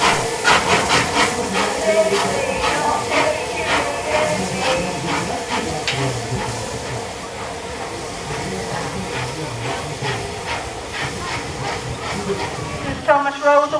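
Steam locomotive Lord Nelson pulls out of a heritage railway station on its run toward Medstead and Four Marks, with steady hissing steam and rhythmic chuffing bursts, loud and close throughout, under a narrator's voice.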